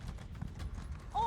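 Horse hooves in The Elder Scrolls Online beat out a steady, fairly close clip-clop, ending with a brief, louder tonal call.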